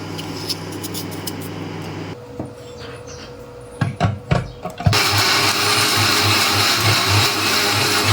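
Kitchen mixer grinder jar blending juice, a loud motor whine in two runs separated by a short pause filled with clattering knocks and handling of the jar.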